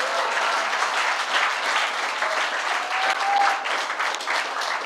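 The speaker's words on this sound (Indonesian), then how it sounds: "Berikan tepuk tangan bagi Dia" Church congregation giving sustained, even applause in a large room, loud and continuous from start to finish.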